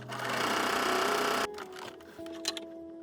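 A sewing machine runs steadily and close for about a second and a half, stitching a quarter-inch seam, then stops, leaving quiet fabric handling and small clicks with a faint hum.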